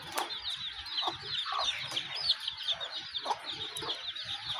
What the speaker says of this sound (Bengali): আর এই যে দেশি মুরগিগুলা বড় হয়েছে মুরগি।